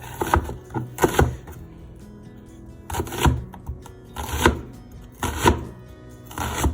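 A jumbo white onion chopped with a knife on a board: steady rhythmic bursts of crisp close cuts, several quick strokes at a time with short pauses between, no talking.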